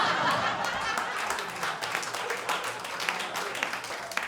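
Comedy club audience claps and laughs in a scattered, steady burst lasting several seconds, with a few louder individual claps standing out near the end of the patter.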